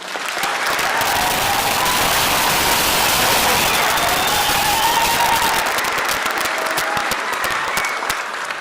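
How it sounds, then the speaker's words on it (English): A graduation ceremony audience at a Native American graduate honoring event applauds steadily, a dense, loud wash of clapping that holds for about eight seconds with faint voices mixed in. "can we again give these graduates a round of applause?"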